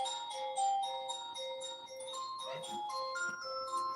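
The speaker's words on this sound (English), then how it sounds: "That's the doorbell." A doorbell plays a long electronic chime melody of sustained, bell-like tones, fairly loud and continuous, with no talking.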